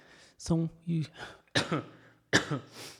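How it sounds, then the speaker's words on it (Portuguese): A few short coughs and throat-clearing bursts in a row, close and fairly loud, with brief pauses between them. "desculpa a tosse"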